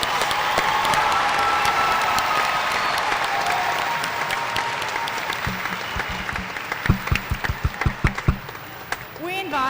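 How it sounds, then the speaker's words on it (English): Audience applause for new graduates at a fall commencement ceremony: sustained, dense clapping across a large hall, thinning into scattered individual claps near the end, with a voice briefly heard over it. "Please join me in giving our new alumni one more round of applause"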